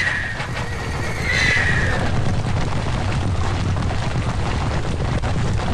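Horses whinny shrilly in a cavalry battle in the video game Kingdom Under Fire Heroes, one sharp neigh rising early, followed by a continuous low rumble of battle noise.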